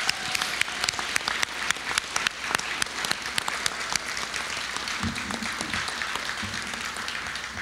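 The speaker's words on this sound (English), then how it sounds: "So would you please give a big hand of applause to all the people who run all of our nonprofits." Audience applause for nonprofit leaders at the Fernando Awards, a dense steady patter of many hands clapping, sustained and fairly close, with no voices over it.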